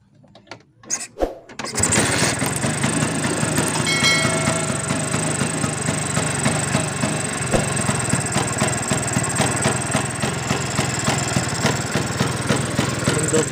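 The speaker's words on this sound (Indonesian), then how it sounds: "Oke, kita coba hidupkan mesinnya ya." A vintage Vespa scooter, a Sprint or Super whose carburettor sits directly on the crankcase, is kicked over with a few sharp knocks, then catches and idles in a steady rattling two-stroke putter close by.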